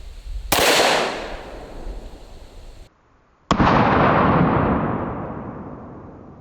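Two loud, sharp handgun shots fired into body armor outdoors, each a sudden crack with a long decaying echo, separated by a brief silence.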